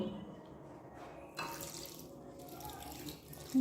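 A little water poured from a container onto amla and sugar candy in a kitchen, a soft trickling and splashing that runs steadily through the moment, fairly faint, with no talking over it.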